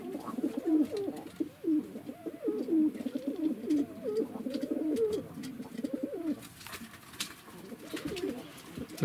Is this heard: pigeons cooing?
yes